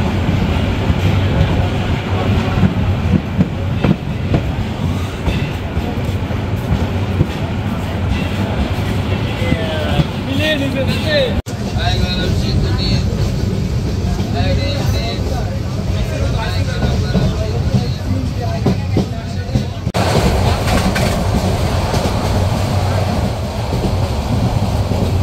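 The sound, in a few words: Mohanagar Express train departing Comilla railway station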